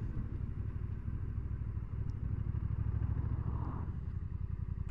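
A Honda NT1100 DCT motorcycle engine runs steadily and close, a continuous low throbbing rumble with a slight swell midway and no talk over it.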